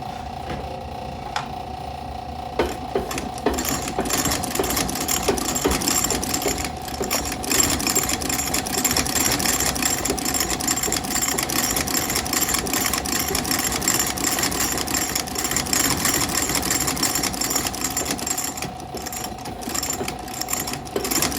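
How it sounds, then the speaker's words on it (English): Outsole stitcher machine sewing boot soles on top of the welt, a steady rapid mechanical clatter with a constant whining hum running throughout, close and continuous without speech. "This is called the outsole stitcher. Stitches the soles from the outside of the boot on top of the welt."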